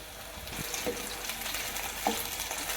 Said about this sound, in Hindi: लो फ्लेम पर हम अनियन रिंग्स को 2 to 3 मिनट्स के लिए फ्राई करेंगे